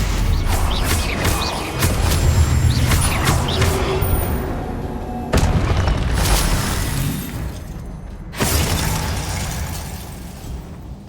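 Confringo fire spells explode during Hogwarts Legacy video game combat: a loud, dense barrage of booming bursts and crackling blasts, with sharp new impacts hitting around the middle and again near the end.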